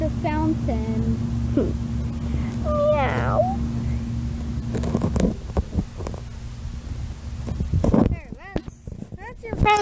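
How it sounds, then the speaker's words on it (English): Cat meowing outdoors, a few short meows then a longer rising cry, mixed with clopping steps and a person talking over parts of it. "Oh, hey, you kitty cat."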